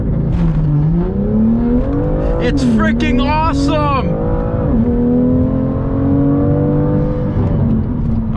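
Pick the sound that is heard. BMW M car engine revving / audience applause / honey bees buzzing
BMW M car engine revving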